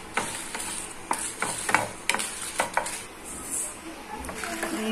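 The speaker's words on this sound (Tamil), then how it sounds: "அழகாக லைட்டா வறுத்தெடுத்துக்கலாம்." Ingredients for idli podi stirred as they lightly roast in a pan, with a spoon repeatedly scraping and clinking against the metal over a faint sizzle at close range.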